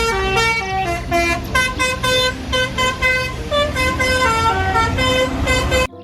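A toy telolet bus, pulled out of thick mud, sounds its musical horn as a loud, continuous chain of melodic tooting notes that plays for about six seconds and then cuts off abruptly.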